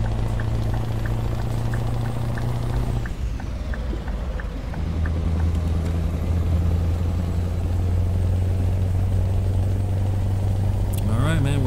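Scania T Series truck in Euro Truck Simulator cruising onto the highway, a steady low engine drone that shifts pitch partway through, with a faint tonal road hum and a brief chirp near the end.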